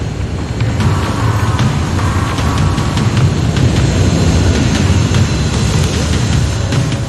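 Enemy aircraft in a Terminator game flying overhead, a loud steady jet-like roar and rumble that holds for several seconds with no pauses.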